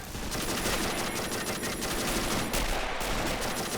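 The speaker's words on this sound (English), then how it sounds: "Can still see the machine gun working." Machine gun in the video game Men of War: Assault Squad during a tank battle, sustained rapid automatic fire blending into a thick wash of gunfire, loud and unbroken.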